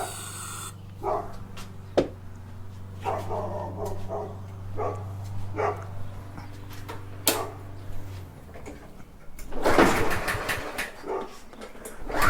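A dog barks in short, separate woofs spread through the yard, near and fairly loud, with a small engine humming steadily beneath for most of the time before it cuts out, then louder clattering noise near the end.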